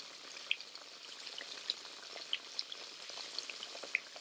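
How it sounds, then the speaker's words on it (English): Sliced green tomatoes fry in oil in a cast iron skillet over medium-high heat, giving a quiet, steady sizzle dotted with small pops and spits, with no voices. "I want to fry these until they're that dark, beautiful golden brown on both sides."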